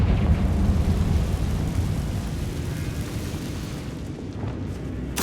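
In Hogwarts Legacy, a Confringo fire spell goes off as a deep, rolling explosive boom that decays over several seconds, ending with a sharp burst.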